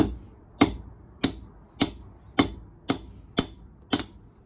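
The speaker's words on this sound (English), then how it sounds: "put it on the anvil and give it some nice firm hits" A hammer strikes knife bolsters set on an anvil in eight firm, evenly spaced metallic blows about 0.6 seconds apart. Each blow rings briefly and sounds close and clear.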